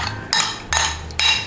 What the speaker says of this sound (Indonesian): Ini diaduk-aduk aja sekitar 1 menit supaya semua bahan-bahannya menyatu